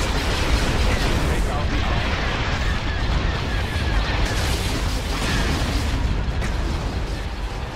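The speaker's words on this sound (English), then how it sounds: "The lasers are on target. All fire on the target." Star Destroyer laser fire in the space battle game Thrawn's Revenge, a dense, continuous barrage of booming blasts and explosions that stays loud throughout, with voiced command chatter mixed in.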